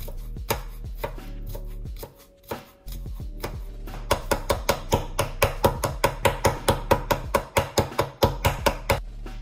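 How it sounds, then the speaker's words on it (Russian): Rapid knife chopping of garlic cloves on a cutting board, a brief pause, then a steady quick run of sharp close taps. "Очистить, помыть и мелко нашинковать 2 зубчика чеснока."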